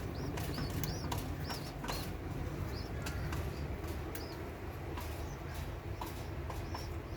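Pigeons in a home loft give soft calls and repeated brief wing flutters against a steady hum of background noise, with no talking.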